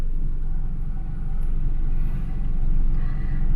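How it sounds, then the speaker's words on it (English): Continuous low road-traffic rumble in Consolacion, with vehicles droning past nearby and swelling gently in loudness, no voices. "The usual traffic of Consolacion."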